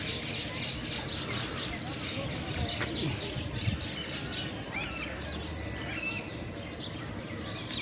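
Birds at the zoo in Rawal Lake park, Rawalpindi, chirp and coo in scattered bursts over a busy background, with people talking nearby.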